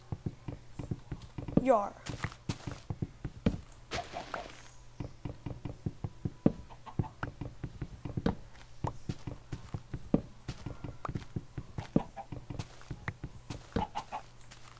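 In a video game, steady clip-clopping of horse hooves trots along rhythmically throughout, with a rooster-like call near the start and a brief spoken word.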